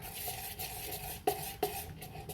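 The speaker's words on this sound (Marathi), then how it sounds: "सर्व मिश्रण एकजीव करून घेऊया" Moong dal dosa batter mixed with turmeric, chopped coriander and rice flour is stirred in a bowl, a soft steady scraping with two sharper clinks of a spoon against the vessel, close and without talk.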